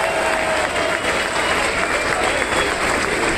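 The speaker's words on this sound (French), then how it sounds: "Vous pouvez vous applaudir." Large crowd at a 4L Trophy rally general briefing applauds itself, a loud, dense, continuous roar of clapping with crowd noise mixed in, sustained at close range for several seconds.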